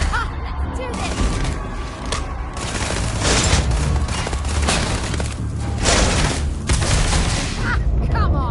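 Chaotic gunfire and explosive crashes in a space combat scene from the video game Starfield, continuous and loud, mixed with shouting voices and dense battle noise throughout.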